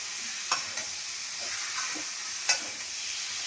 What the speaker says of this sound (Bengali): এবারে আমি চিকেনগুলো একে একে দিয়ে দেবো। দিয়ে আমি এগুলো নাড়বো সব একসাথে।